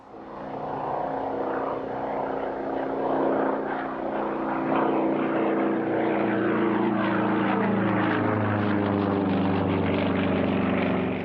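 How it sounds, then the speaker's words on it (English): A Sukhoi Su-31 aerobatic propeller aircraft flying a civilian display at a Russian Air Force anniversary airshow, its engine droning loud and steady with a shifting, wavering tone as it maneuvers overhead. "The first of the civilian aerobatic displays is by a DOS AAF Sukhoi Su-31."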